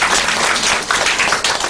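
A church congregation applauds in a brief, dense burst of clapping that fills the space, steady and loud from start to finish.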